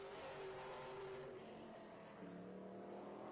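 A Pro Late Model race car on a qualifying lap at a short oval speedway, its engine a steady, moderately distant drone that eases briefly then rises again, with no voices.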